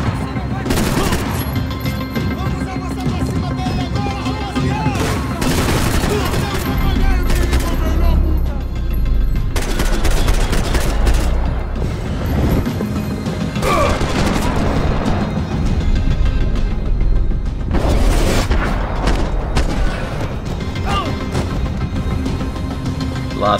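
Pistol gunfire from the Max Payne 3 video game, with repeated sharp shots and bursts over a constant loud background of game sound, close and heavy throughout, with a voice speaking over parts of it.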